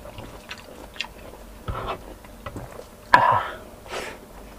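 Crunchy carrot pieces from chicken caldereta being chewed close to the mic, several separate bites and crunches spread across a few seconds, with mouth noises and a louder crunch near the middle.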